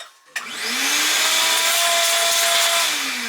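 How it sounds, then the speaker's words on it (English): A shop vacuum beside a Bridgeport milling machine starts up with a sharp click from its foot pedal, then its motor whines up and holds a loud, steady roar. "my vacuum is on a foot pedal"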